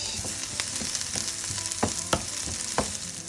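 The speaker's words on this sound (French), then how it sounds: "on veut simplement les faire blondir un petit peu dans la poêle" Food browns in a frying pan with a bright, steady sizzle, punctuated by several sharp spatula taps and scrapes at an uneven pace, close and fairly loud.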